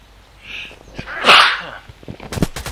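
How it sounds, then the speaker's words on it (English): A single sneeze bursts out near the middle, loud and close, set against faint background sounds from a shooter game, with a few sharp game noises just after. "I hope you did not hear my sneezing"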